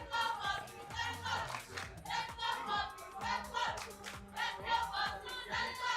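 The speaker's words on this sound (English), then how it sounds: "we've got the cheerleaders cheering for their teams." Cheerleaders at a live gaming tournament chant and shout in rhythmic bursts with clapping, a loud, pulsing chorus of young voices repeating cheers in a busy hall.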